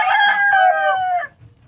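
One loud, close rooster crow rings out in a drawn-out cock-a-doodle-doo, then trails off into quiet farmyard background.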